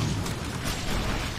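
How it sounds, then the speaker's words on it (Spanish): Explosions erupt from the player character in the action RPG Hero Siege, a dense, continuous wash of booming bursts and pops filling the short stretch with steady loudness and no speech. "Eso que sale de vez en cuando que son como explosiones desde mí"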